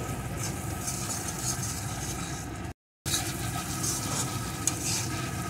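Masala with fried potato and pointed gourd sautés in a pan for a vegetarian dish, a steady, quiet, continuous sizzle with soft stirring, broken by a brief silent gap midway.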